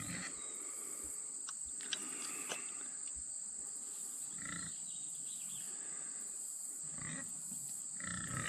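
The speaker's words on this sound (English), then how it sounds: "You hear the pigs kind of squealing in the background." Hungry pigs on a farm squeal intermittently in the background, their cries fairly distant and mixed with a constant high insect-like whine and general barnyard noise.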